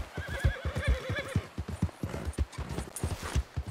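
A horse gallops in Red Dead Redemption 2, with a steady, close run of clip-clop hoofbeats and a loud whinny early on. The hooves keep pounding throughout.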